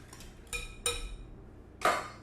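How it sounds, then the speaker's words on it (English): Utensil clinks against a bowl while stirring an egg roll filling of finely chopped carrot, onion, spring onion and pepper, three separate knocks, close and fairly quiet. "And stir until combined."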